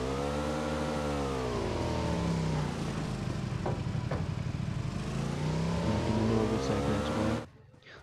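A motorbike engine drones steadily in the BGMI video game, running loud and continuous with slight rises in pitch before cutting off near the end.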